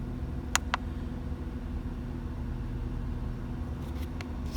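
Mercedes-Benz car engine idling steadily with a low, even rumble, two brief sharp clicks near the start and faint ticks toward the end.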